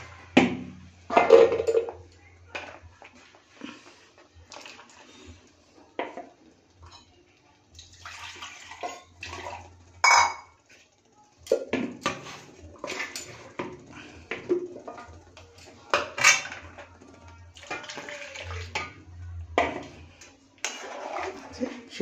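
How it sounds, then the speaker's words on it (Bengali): Spinach boiling water poured into a pan of palak paneer, sloshing and splashing in irregular bursts, with faint clatter of utensils between pours, close and moderately loud. "সামান্য ওই পালং শাক সিদ্ধ করা জলটা ওর মধ্যে দিয়ে দেবো।"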